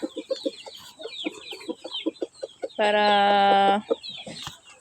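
Hens cluck in short repeated bursts throughout, joined midway by a loud, sustained rooster-like call lasting about a second before the clucking resumes.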